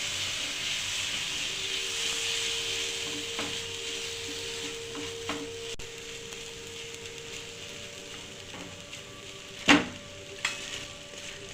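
Vermicelli being stirred with milk in a cooking pan gives a steady soft sizzle and hiss with occasional scraping clinks, continuous and close, with a couple of sharper knocks near the end.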